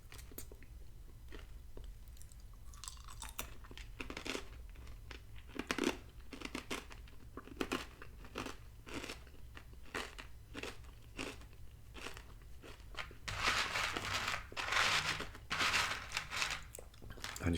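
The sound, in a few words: chewing crunchy Catalina Crunch cinnamon toast protein cereal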